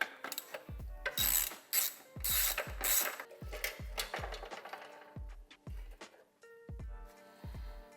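A ratchet clicks off a bracket bolt on a Honda CT90 Trail 90 motorcycle, quick bursts of sharp metallic pawl ticks close up, pausing and resuming with a few loose metal clinks.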